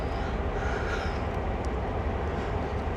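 A CSX heavy-haul freight train runs in the Train Sim World game, giving a steady, loud, continuous low rumble with constant rolling noise and no pauses.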